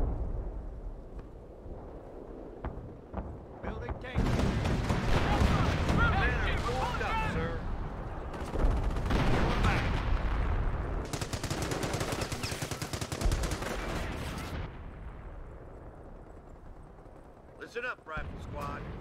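Battle sounds from the World War II strategy game Company of Heroes: bursts of rifle and machine-gun fire with booming artillery. The firing runs loud and dense through most of the clip, with voices calling out over it.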